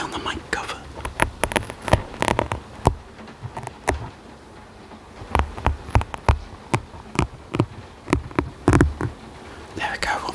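Tiny hearing aid filters from a small container catch and rub against a microphone cover in an ASMR setting, giving a close, irregular series of soft scratchy taps and brushes, with quiet whispering in places.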